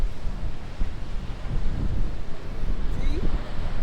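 Steady wind buffets the microphone on a beach boardwalk, a continuous low rumble with surf faintly underneath, and a brief voice near the end.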